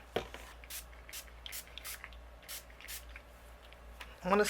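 Iridescent shimmer spray is misted onto a card background in a series of short, sharp pump bursts, about seven in a row, close and fairly quiet, with a few small clicks and handling noises around them.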